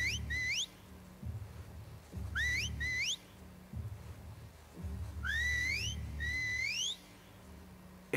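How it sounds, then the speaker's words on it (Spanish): Call whistles from the video game The Last of Us Part II, rising whistled notes sounding in paired bursts, repeated about four times over low rumbling game ambience. "el silbido de llamada"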